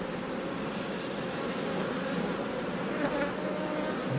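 A small honeybee swarm of about six frames at an apiary, giving a dense, continuous buzzing hum that stays close and even throughout.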